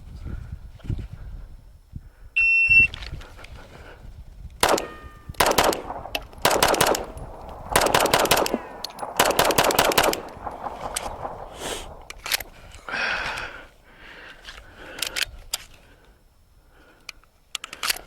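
Sig Sauer P365 pistol fired in several rapid strings during a recoil control drill, with sharp, close shots in fast bursts separated by pauses, preceded by a brief timer beep.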